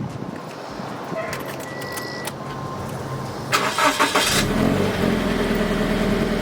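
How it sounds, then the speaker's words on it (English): A Scion FR-S with its stock OEM exhaust cranks and starts after a few seconds of quiet clicks, then settles into a steady, fairly muted idle close by, with no talking. "give you guys a little rev and start up the car so you guys can hear what the OEM kind of exhaust sounds like on this"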